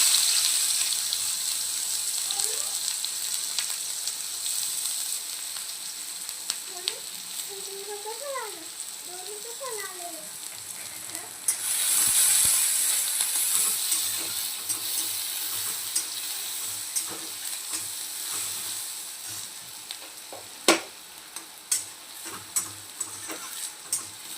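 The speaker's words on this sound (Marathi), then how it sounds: "त्याच ऑइलमध्ये आपण कांदा टाकूया" Onion frying in oil left over from cooking bitter gourd in a pan, a steady hiss of sizzling with intermittent spoon scrapes and taps, close and moderately loud, with a faint voice briefly in the background midway.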